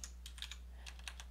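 Quiet, irregular clicking of keys on a computer keyboard, a quick burst of taps, then a short pause, then more, set against a steady low electrical hum.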